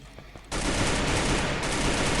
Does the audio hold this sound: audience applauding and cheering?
no